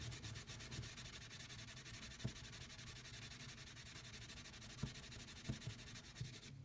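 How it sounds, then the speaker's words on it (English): Felt pad rubbed briskly over wax on leather, a quiet, steady scratchy friction in quick back-and-forth strokes with a few light knocks, no talking. "when you start to take your felt and really like rub in the wax"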